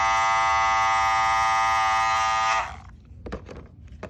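A steady, loud electric buzz from a cordless Andis ReVite hair clipper motor runs continuously, then cuts off abruptly, leaving a few faint clicks.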